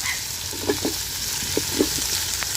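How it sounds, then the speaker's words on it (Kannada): Mushrooms fry in hot oil in a pot for a mushroom biryani, a steady close sizzle with a few soft stirring knocks scattered through it. "ಇವಾಗ ಮಶ್ರೂಮ್ ಹಾಕ್ಕೊತಾ ಇದ್ದೀನಿ."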